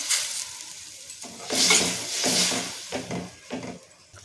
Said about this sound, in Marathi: मस्त अशी उकळ आलेली आहे, टोमॅटोच्या सारला रंग सुद्धा सुंदर आलेला आहे।